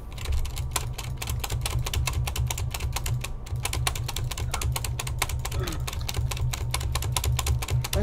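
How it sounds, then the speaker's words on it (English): Rapid keyboard clacking and mouse clicks from shift-clicking items in Minecraft, a dense steady patter of keystrokes close to the mic, with a low hum underneath and no talking. "That's me shift clicking everything."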